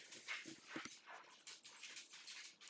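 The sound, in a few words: dog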